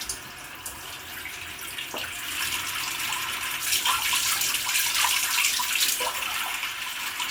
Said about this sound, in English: let's get a bit of water in there